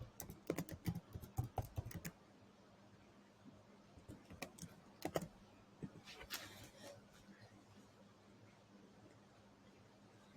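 A password is typed on a computer keyboard: quiet clusters of quick key taps in short bursts with pauses between, close and soft against a low room hum.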